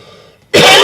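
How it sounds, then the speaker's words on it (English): A single loud, close cough bursts out abruptly after a brief quiet moment, harsh and broadband, cut off almost at once. "sorry about the coughing."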